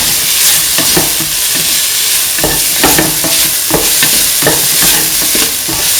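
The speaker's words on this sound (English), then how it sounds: "Saute this nice and mix." Coconut milk stew with mint and omelette is sautéed and mixed in a pan: loud, continuous frying sizzle with repeated scraping stir strokes of a spoon against the pan, close up, no voices.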